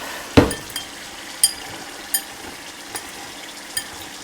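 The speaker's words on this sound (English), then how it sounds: "So now I'm going to mix this up." Tofu taco filling with red onion being mixed in a bowl, giving a few sharp clinks and scraping taps spaced about a second apart, fairly quiet with no talking.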